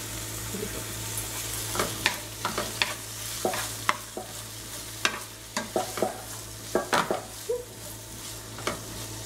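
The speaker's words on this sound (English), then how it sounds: "after a minute of sauteing all this, we're going to add our onion and tomatoes" Onion and tomatoes sauté in a pan for plum chutney, a steady close sizzle overlaid by repeated scraping stirs from a utensil, irregular clicks and knocks against the pan, no speech.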